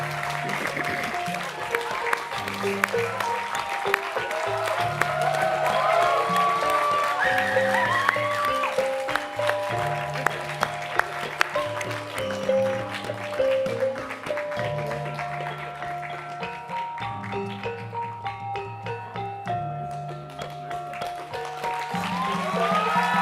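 Sustained applause from a convocation audience honoring award recipients at a business school graduation, a dense steady patter of many hands over background music, lasting a long stretch.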